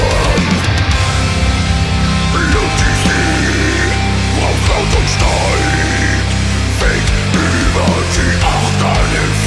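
Black metal rhythm guitars and bass guitar play together in a dense, distorted wall of sound, loud and continuous throughout with no pauses or voices.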